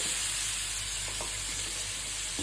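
Sliced carrot strips with onions sizzle and crackle in a hot pan as they are stir-fried, a steady soft frying hiss with faint stirring scrapes. No one speaks.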